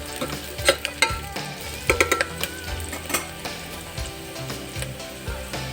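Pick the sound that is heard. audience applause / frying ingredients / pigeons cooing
frying ingredients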